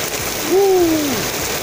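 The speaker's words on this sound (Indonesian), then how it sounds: "hujan deras, jadi kita istirahat lagi" Heavy rain pours steadily during a long walk from Padalarang toward Jatinangor, a dense even hiss for the whole stretch with a brief voice rising over it midway.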